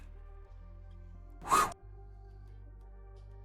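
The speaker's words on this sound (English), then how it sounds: "That's the sound of an arrow flying." A single sharp whoosh of an arrow flying, played as a sound effect, rises and fades within about a third of a second over a steady low hum, with a brief exhaled exclamation just before it.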